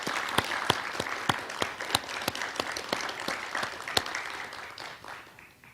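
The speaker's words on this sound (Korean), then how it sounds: "박수 한번 주시죠." Audience applause at a Korean tenth-anniversary ceremony for cultural heritage care: a steady crowd clapping with sharp individual claps standing out, sustained for several seconds before starting to thin out.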